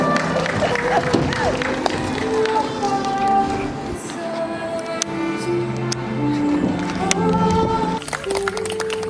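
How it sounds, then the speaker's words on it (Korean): Guests at an outdoor evening wedding ceremony applaud as the groom enters, sustained clapping under a host speaking over a microphone, with music and crowd murmur. "여러분 큰 박수 부탁드리겠습니다"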